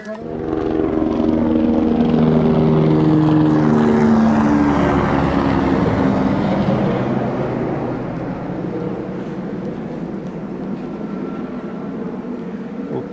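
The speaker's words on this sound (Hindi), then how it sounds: "ऊपर से हेलीकॉप्टर की गड़गड़ाहट" A loud, steady helicopter rotor and engine rumble overhead on the Amarnath trek dominates at first, then eases slightly and continues as a broad, droning roar.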